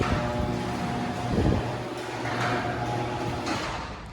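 An Amarr 16x7 garage door runs steadily on a Genie 3060L opener after repair and cable adjustment, a continuous mechanical hum and rumble with a brief clunk partway through, fairly loud and close, with no talk.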